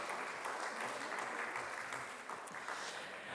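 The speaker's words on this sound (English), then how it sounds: "Once again, a big round of applause." A conference audience applauds a panel on arts accessibility, a steady, fairly faint wash of clapping that holds evenly throughout with no voices over it.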